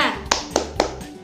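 Children clap three sharp, evenly spaced beats of the tepuk semangat chant at close range, with children's voices chanting around the claps.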